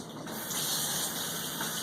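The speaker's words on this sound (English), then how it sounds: "So I'm going to rinse all of this fabric out" Fabric being rinsed out under cold running water, a steady broad rushing and spraying hiss of water flowing continuously and fairly loud throughout, with no voices.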